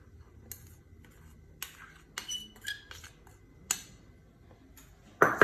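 A utensil scrapes and clinks against a bowl while red velvet cake batter is mixed, giving sharp, irregular taps and knocks with quiet gaps and a louder clatter at the end.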